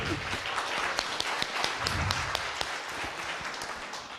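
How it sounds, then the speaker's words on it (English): Audience round of applause at a tech conference talk, steady mid-level clapping from a moderate crowd with a few sharper individual claps standing out. "Round of applause."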